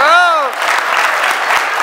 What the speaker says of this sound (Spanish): fuerte el aplauso ahí